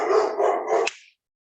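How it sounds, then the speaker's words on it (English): A domestic dog barks indoors in a short burst of two or three rough, close barks that fade out quickly, with no talking over it. "Sorry about the dogs barking."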